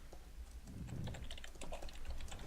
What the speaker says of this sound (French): les claviers qui tapent